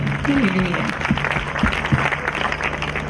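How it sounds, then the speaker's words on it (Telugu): Church congregation clapping during a Christian sermon, a moderate patter of hands mixed with talking and a hum underneath, with a few sharper thumps scattered through. "గట్టిగా చప్పట్లు కొట్టండి దేవునికి"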